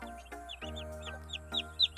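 Mother hen clucking softly among newly hatched chicks on a farm, with repeated high peeping chirps from the chicks over a steady low background hum, fairly close.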